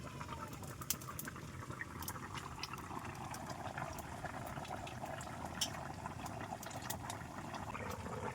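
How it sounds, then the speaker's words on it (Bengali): Water poured into a pot of curry, a continuous close liquid rush and bubbling hiss that stays steady throughout. "এইবারে দিয়ে দেবো জল।"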